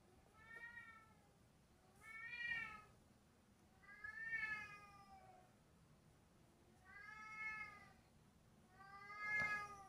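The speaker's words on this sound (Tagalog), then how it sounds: "Yung pusa natin, gusto kasi nilang pumasok dito sa kwarto eh." A cat outside a room meows to be let in, with five drawn-out, clearly pitched meows spaced about two seconds apart, fairly faint against a quiet indoor background.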